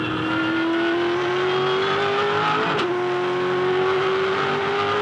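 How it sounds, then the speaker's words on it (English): A V8 Supercar races at the 2007 Tasmania Challenge, its engine holding a loud, steady drone that dips briefly midway as it short-shifts into fourth gear, then pulls on at a slightly lower pitch. "Grabbing 4th gear a little earlier, just short shifting to try and not excite the car into too much oversteer through the turn 8 left-hander"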